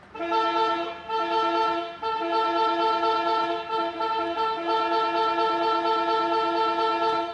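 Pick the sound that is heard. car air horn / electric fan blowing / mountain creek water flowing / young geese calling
car air horn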